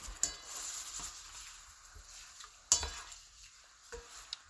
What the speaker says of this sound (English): So yeah, this is boiling down now. Got those eggs in there.